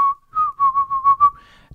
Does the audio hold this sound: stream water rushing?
no